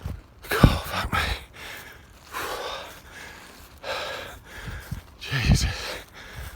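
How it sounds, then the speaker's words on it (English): Heavy, ragged breathing from a man out of breath after a hard run, gasping and panting close to the ear in uneven bursts with a few sharp snorting inhales. "Can you hear my breathing?"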